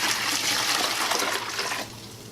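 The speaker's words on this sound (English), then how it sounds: "first thing you want to do is pour your water in there" Water poured steadily into a pot while mixing dry glaze, a close, rushing splash that lasts about two seconds and then thins to a softer trickle.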